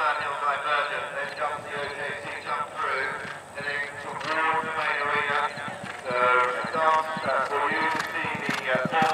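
Horse hooves galloping across a CCI one-star cross-country eventing course, a steady clip-clop rhythm running throughout beneath continuous commentary, with a possible whinny.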